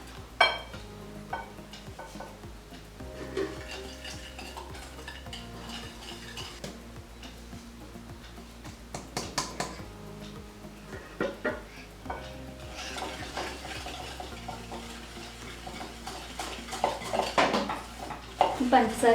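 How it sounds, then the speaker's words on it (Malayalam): A spoon mixing melted butter with powdered sugar in a frying pan for butter cookies, with repeated scraping and clinking against the pan, close and moderately loud, with a background musical bed. "ഇനി നമുക്ക് പഞ്ചസാര പൊടിച്ചതും കൂടി ചേർത്ത് നന്നായിട്ട് മിക്സ് ചെയ്തെടുക്കാം"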